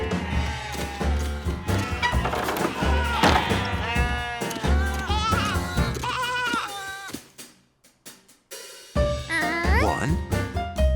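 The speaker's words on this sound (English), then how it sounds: "George needed to count more than 1 sheep to get sleepy." Cartoon sheep bleat in short, wavering cries over lively background music that briefly drops out before returning.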